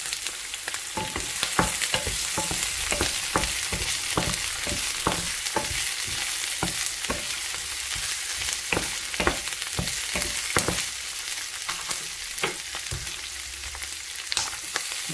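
Broccoli, cauliflower and carrots stir-frying in hot olive oil, a dense continuous sizzle broken by repeated sharp scraping clicks of stirring, close and loud, with no talking.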